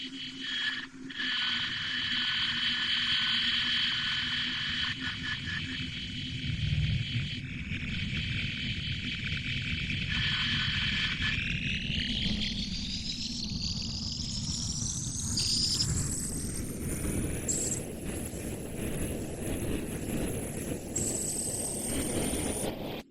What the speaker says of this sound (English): Astronomer Jerry H. Amon would discover the radio signal a few days later